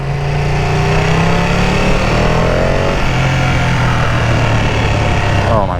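Ducati Panigale V2 motorcycle riding in Clearwater, its engine droning loud and steady with rising rev tones, thick with wind and road roar throughout.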